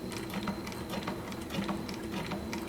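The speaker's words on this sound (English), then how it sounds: "Let's watch it walk up those extra layers and see if it struggles much." Juki 1508 industrial sewing machine, converted to a 190 needle system, stitching through thick layers of leather: a quick, steady mechanical clatter of needle strokes, close and fairly loud, with no talk.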